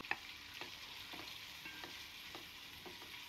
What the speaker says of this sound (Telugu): ఆయిల్ వేడెక్కాక ఒక 3 ఉల్లిగడ్డలు ఇలా సన్నగా కట్ చేసుకున్నాను